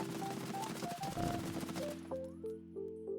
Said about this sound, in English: testing the HK-416, full auto at range